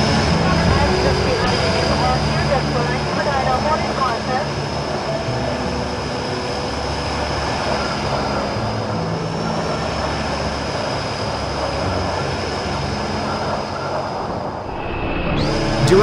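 An airplane in the BeamNG Drive video game flies through worsening, turbulent weather, its engine droning loud and unbroken for about sixteen seconds.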